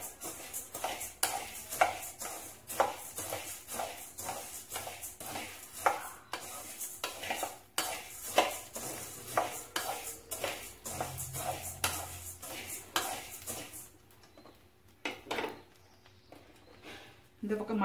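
Coriander seeds dry-roasted in a pan for a chilli powder blend, with rapid repeated scraping and stirring strokes of a spatula against metal, faint rattling and light sizzling, and brief talk at points.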